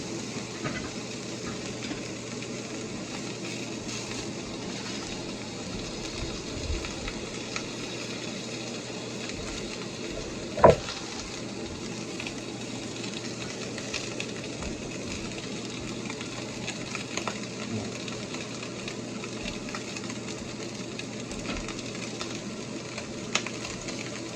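Steak searing in a pan in a home kitchen, a steady broadband sizzle and crackle running the whole time with one sharp brief pop midway, no talking.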